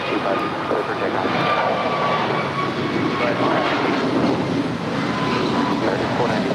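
American Airlines 497, a brand-new Airbus A321neo, takes off from runway 25 at LAX bound for Philadelphia, a loud, steady jet engine roar that holds constant throughout.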